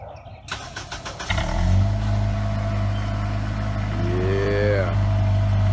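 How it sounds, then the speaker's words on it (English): A Honda inline-four car engine cranks briefly on a cold start and catches, then settles into a loud, steady idle with a low rumble and a slight rise in revs near the end. "this is the cold start of his spouse's car. This is a Honda inline four cylinder"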